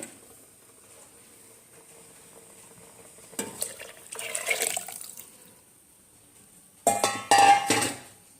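Tamarind juice is poured and stirred into horse gram broth in a pot, giving two short watery sloshing and splashing bursts against a quiet kitchen background.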